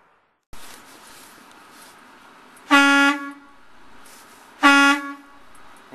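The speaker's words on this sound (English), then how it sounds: "Some of the street trucks do have air horns too," Two loud, brief truck air horn blasts sound a couple of seconds apart over a quiet background hum.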